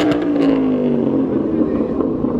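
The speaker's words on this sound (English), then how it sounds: "There goes the 599 GTO." Ferrari 599 GTO pulling away on a Monaco street, a loud engine note that rises and fades as it moves off, with people talking over it.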